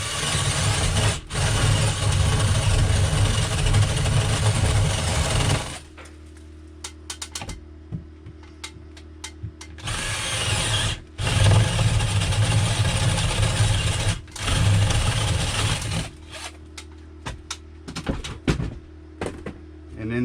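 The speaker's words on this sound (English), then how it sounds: "in the background you can hear the Harbor Freight generator running." A Harbor Freight portable generator keeps up a low, steady engine drone at an off-grid cabin. Its hum comes through loudest in long stretches and drops back in between, with clicks and knocks breaking in and speech now and then.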